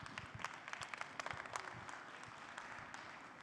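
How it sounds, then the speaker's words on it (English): An audience at a workshop breakout session gives a short, moderately quiet round of scattered hand claps that fades after about two seconds. "So a big applause, I think, to yourselves for doing all the work this afternoon."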